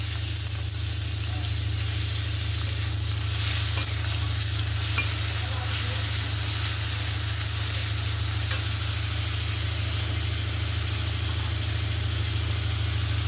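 Onion paste stirred and fried until reddish for a Bengali-style rui fish kalia, a steady, even sizzle with a constant low hum underneath, with no talk.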